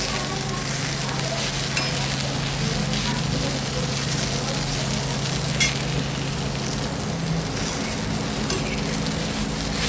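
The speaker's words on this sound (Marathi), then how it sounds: "अजून पुन्हा मी भेंडी थोडीशी चांगली भाजीपर्यंत करते" Bhindi (okra) pan-frying, with a steady crackling sizzle and occasional stirring scrapes, close and continuous, while a voice speaks over it.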